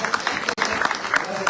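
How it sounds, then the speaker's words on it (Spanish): A church audience applauds for Sandy, a short burst of clapping mixed with voices and a brief dropout partway through. "démosle un aplauso a Sandy"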